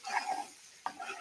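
Food stirred in a pot gives a faint, brief scraping and clinking of a utensil against the pot, in two short strokes in a quiet kitchen.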